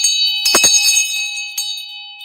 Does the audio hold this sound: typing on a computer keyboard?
no